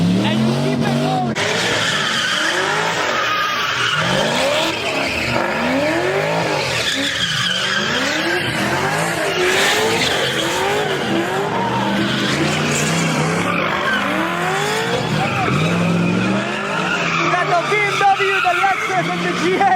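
At a car meet, a car grinds on popped tires and bare rims, skidding and squealing in repeated looping slides with revving engine, loud and close over a shouting crowd.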